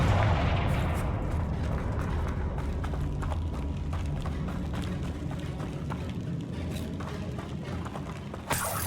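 A Confringo fire spell blast from Hogwarts Legacy gives a dense, rumbling roar that holds steady for several seconds, with scattered crackles and a sharp thump at the end.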